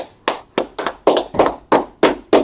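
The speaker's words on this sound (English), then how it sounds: "Go ahead and give Commander General Hamlin a clap." Slow, loud handclaps ring out one after another, about eight in a steady rhythm, sounding like a single person or small group rather than a crowd.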